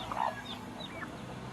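An Easter Egger hen, a plump bird that lays dirty-blue eggs, gives a few soft clucks and a short higher call, faint and mid-distance against a steady farmyard background hum.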